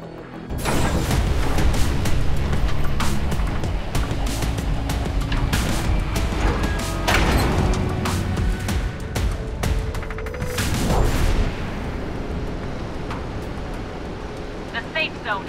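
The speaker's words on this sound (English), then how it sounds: "missile bombardment on its way." Missile bombardment in a mobile shooter game, heavy rumbling explosions and booms layered over continuous loud battle noise, with a couple of sharper blasts standing out midway; a voice talks through it.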